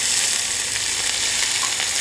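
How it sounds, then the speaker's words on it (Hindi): Onions fry with cumin in a hot pan, giving a dense, steady sizzle that fills the whole stretch at an even, loud level, close up and without voices. "प्याज को बढ़िया ब्राउन कलर होने तक भूनना है।"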